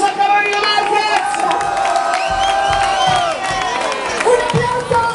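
An audience at a 90s-themed nightclub show cheers, whoops and claps loudly and continuously for a singer, with shouting voices throughout.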